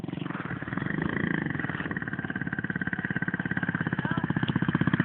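A motorcycle engine runs steadily nearby with a throbbing, pulsing exhaust beat that grows slightly more pronounced toward the end, with voices talking over it.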